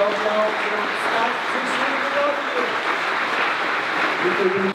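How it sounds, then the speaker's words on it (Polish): At the opening of a Bricomarche supermarket in Sandomierz, an indoor audience applauds steadily, and scattered voices murmur underneath. "Brawa moi drodzy"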